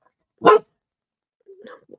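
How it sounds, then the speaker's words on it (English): A single sharp dog bark close by, followed after a pause by a softer whine or grumble. "I'm sorry for the barking."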